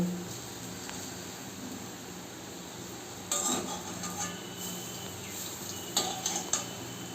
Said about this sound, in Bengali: প্রত্যেকটা ডালের বড়া আমি উল্টে দেব